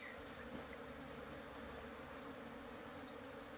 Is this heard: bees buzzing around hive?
yes